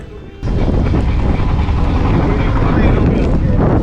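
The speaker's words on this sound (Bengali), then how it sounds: "দেখুন হাওড়ে কী রকম বৃষ্টির তোফান চলছে" Heavy rain and storm wind on the Tanguar Haor wetland, heard from a trawler boat: a loud, dense roar of wind buffeting the microphone that starts abruptly and stays constant.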